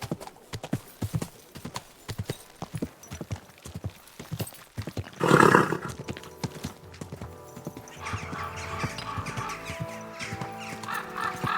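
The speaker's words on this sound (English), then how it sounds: "Easy, good horse." A horse in the medieval video game Kingdom Come: Deliverance 2 clip-clops with quick, steady hoofbeats, snorts loudly partway through, then stands under low ambient game sound.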